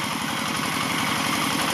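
A diesel engine on a belt-driven walking tractor used for plowing fields runs steadily close by, with a rapid, even chugging throb and a rough mechanical rattle and no pause.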